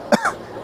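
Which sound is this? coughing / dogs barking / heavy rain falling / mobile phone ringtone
coughing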